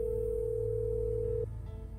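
Unanswered phone call in the Neon Hearts City video game: a steady unbroken ringback tone that cuts off abruptly, leaving quiet background.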